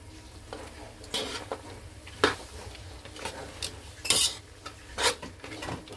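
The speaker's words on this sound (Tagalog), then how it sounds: "Basta ihalo lang natin siya dyan guys" Ground peanuts being stirred into kare-kare in a cooking pot, with several clinks and scrapes of a spoon against the metal spaced across the moment over a low background hum.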